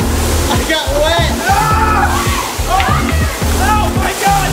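Water from a car wash sprays and sloshes over a person walking through the wash bay, a loud, steady, splashing hiss. Excited voices shout and talk over it throughout.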